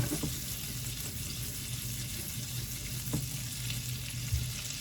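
Pieces of squid fry gently over low heat in a pan, a soft steady sizzle with a couple of faint clicks and scrapes.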